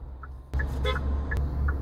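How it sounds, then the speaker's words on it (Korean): Short, faint car horn toots from a vehicle waiting behind a car stopped for a pedestrian, heard over low road noise and the thud of traffic. "보행자가 있어 멈췄는데 뒷차가 바로 경적을 울립니다."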